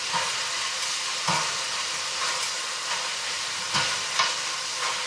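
Lamb pieces sizzle steadily in a hot pan for a quick lamb sauté, a loud continuous frying hiss with occasional stirring scrapes breaking through.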